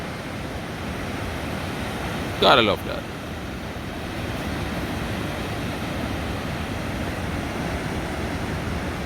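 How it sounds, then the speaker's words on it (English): Ocean waves crash on the stones and shore below a sea cliff resort in Portland, Jamaica, a steady broad roar that runs throughout, with a short spoken remark near the start. "Loving the waves crashing on the shore."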